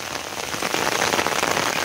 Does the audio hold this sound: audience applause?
no